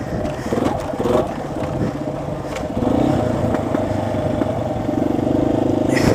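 A dual sport motorcycle engine runs close by with a rough, pulsing idle that rises into a steadier, louder drone partway through, with some clatter over it. The bike could be a Kawasaki KLX250s or a Yamaha XT250.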